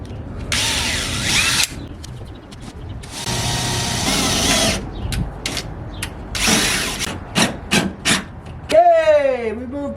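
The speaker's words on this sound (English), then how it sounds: "Apparently this thing's not happy unless I drill a freaking pilot hole." Power drill boring a pilot hole for self-tapping screws into a rolled fender while fitting S10 flares on a Blazer, several loud whirring bursts of varying length between pauses, with brief clatter and a short whining sweep at the end.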